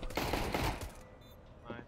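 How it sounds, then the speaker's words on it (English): Loud, close bursts of rapid rifle fire in the shooter game CS:GO on the de_cache map during a bomb-site push after a flashbang, a short panicked spray that cuts off abruptly. "He started panic shooting as soon as the flash popped."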